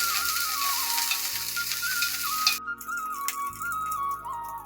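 Chopped onion, garlic and green chili fry in a pan with a steady, loud sizzle, accompanied by a whistling tone and background music.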